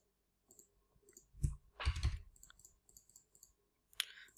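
Computer mouse clicks in short, sparse bursts, quiet and close, alone with no voices.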